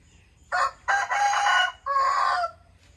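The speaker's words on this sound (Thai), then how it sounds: "ขันดีมากเลย" A rooster on a family farm crows loudly and close by in three long, strained bursts with short gaps between them. The crowing stands alone, with no talk over it.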